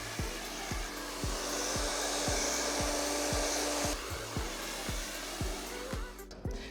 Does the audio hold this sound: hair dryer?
yes